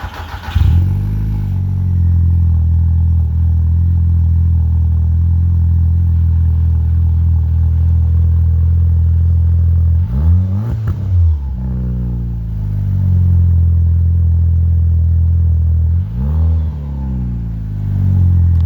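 A cold car engine idles steadily with a deep, loud rumble, briefly revving twice midway before settling back to a constant drone.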